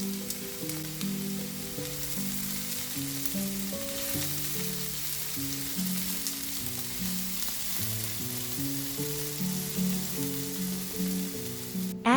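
Vegetables seasoned with salt and pepper sizzle steadily in a pan as they are mixed, a quiet, even crackle with soft stirring sounds throughout and no speech.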